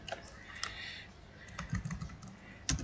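Someone types on a computer keyboard while writing a database query. The keystrokes are quiet and irregular, with scattered clicks and small bursts, heard alone in a quiet room.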